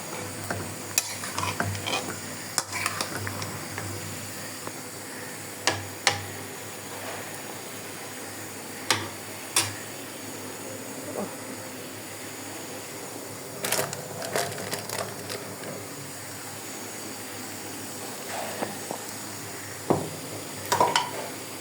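Ginger and garlic paste are stirred into beef in a hot pan, with a soft sizzle underneath and irregular scraping clicks of a spoon against the pot, some sharp and close, spread across the stretch with brief pauses.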